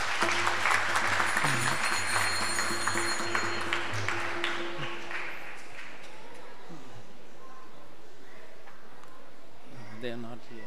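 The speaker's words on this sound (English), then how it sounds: "Give him a round of applause." An audience applauds at a Sunday feast gathering, dense clapping for about five seconds that thins out, with a voice speaking over it and again at the end.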